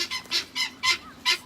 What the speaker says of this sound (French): هذا هو الحجل الحبشي.